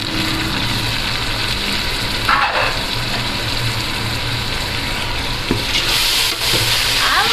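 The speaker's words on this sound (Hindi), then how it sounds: "अब हमें इस मसाले को इतना भूनना है कि हमारे टमाटर जो से वो थोड़े से गल जाए।" Tomatoes and spice masala fry in a pan while being stirred for a chicken biryani, a steady loud sizzle with occasional scraping stirs, close up and without talking.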